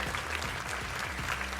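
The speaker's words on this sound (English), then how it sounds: "Let's give a round of applause" Applause for a guest on a podcast episode, a short burst of dense clapping with a low rhythmic hum underneath, some faint talk mixed in.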